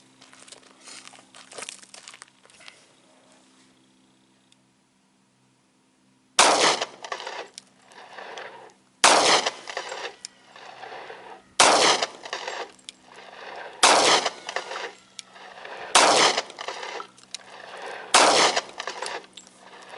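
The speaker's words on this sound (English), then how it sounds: "I'm going to put some rounds on that left target and let's see what this does" A S&W M&P Shield 45 pistol fires six 230 grain ball rounds after several seconds of quiet rustling. The six loud, sharp reports come at a steady pace about two to three seconds apart, each one ringing out briefly outdoors.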